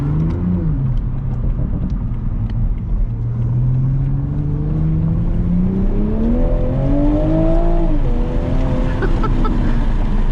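A 2020 Toyota Supra with stock exhaust revs and climbs in pitch through fast gear shifts, a loud, steady exhaust note with rising harmonic sweeps and no talking.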